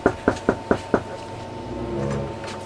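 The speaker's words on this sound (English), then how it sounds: "What's that noise? Somebody at the door?" Five sharp, evenly spaced knocks on a door ring out close and loud, followed by a quieter stretch with faint background hum.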